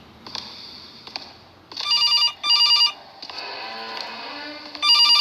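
A telephone rings in a horror video game, with loud electronic ring bursts repeating in short spaced pairs and a quieter, hissy background between rings.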